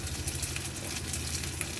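Potatoes fry in oil in a home kitchen pan with a soft, steady sizzle and a faint low rumble beneath, quiet and continuous over a short stretch with no talking.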